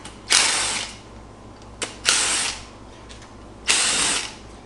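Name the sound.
ratchet removing valve cover bolts on LS engine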